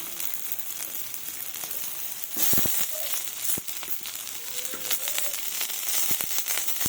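Leftover rice frying in a pan with spring onions, a soft steady sizzle with scattered crackles and a few stirring clatters, fairly faint and close, no talking.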